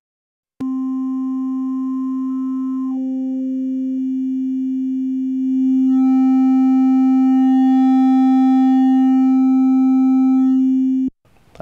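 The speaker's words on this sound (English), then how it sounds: "And you can see that distortion on the sine wave there" A sine wave from a Waldorf digital synthesizer runs through its overdrive circuit, a steady loud tone with shifting upper harmonics that grow rougher and denser as the distortion increases, then cuts off abruptly.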